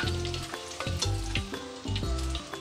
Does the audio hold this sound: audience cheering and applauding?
no